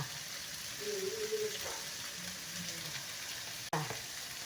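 Shrimp paste (alamang), rinsed and sprinkled with juice, sizzling softly in a pan, a quiet steady fry with faint stirring, a brief clatter near the end, and a voice speaking over it.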